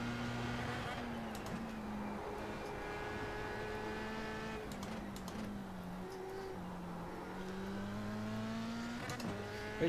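Formula 3 race car in a racing video game at Road Atlanta, its engine note climbing steadily as the throttle opens through a turn, continuous and fairly loud with tonal harmonics rising and dipping, under a voice.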